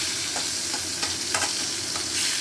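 Rice coated in mustard is stirred in a hot pan, giving soft scrapes and light sizzling in a few gentle strokes, close by and with no talking.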